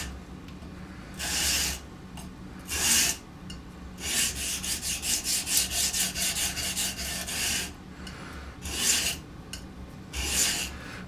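A knife blade is drawn across an Edgewright sharpening system stone while its edge is reprofiled to a 14 degree angle, making repeated rasping strokes in uneven bursts, some short and some in a fast run, close and fairly loud.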